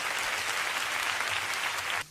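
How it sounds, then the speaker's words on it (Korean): A church congregation claps together in a brief, dense burst of applause that cuts off abruptly at the end. "우리 주님 앞에 감사의 박수 올려드립시다."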